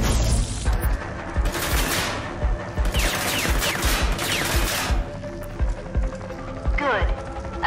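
Simulated enemy gunfire in the video game Rage 2 comes as loud bursts of rapid shots with pauses between volleys, mixed with footsteps and other game noise and a voice speaking.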